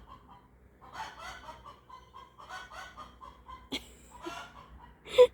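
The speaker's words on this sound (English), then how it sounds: "Oh, my chickens." Backyard chickens cluck in soft, broken bursts at close range in a spring garden, with a couple of sharper squawks near the end.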